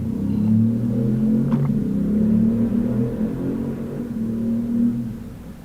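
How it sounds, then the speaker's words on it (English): Out on the street at a traffic light, a car engine revs nearby, a low, continuous rumble that swells and eases several times, heard from indoors close to the road. "Somebody's revving their engine here at the traffic light."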